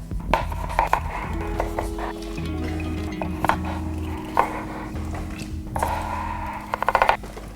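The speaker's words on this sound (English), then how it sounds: "Give them a wash, give them a chop, get them straight into the pot." Vegetables chopped roughly on a board for chicken stock, irregular knife knocks scattered through the stretch, with a clustered flurry of quick chops near the end over a steady background hum.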